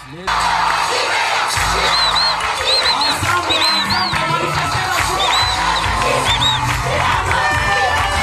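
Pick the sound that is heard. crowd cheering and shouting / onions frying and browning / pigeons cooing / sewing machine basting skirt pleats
crowd cheering and shouting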